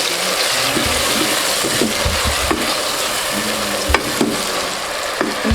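Tomatoes sizzle and fry in a pan with fried garlic while being stirred, giving a steady close hiss punctuated by scraping, knocking stir strokes, with no voices.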